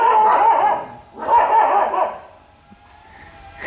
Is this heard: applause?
no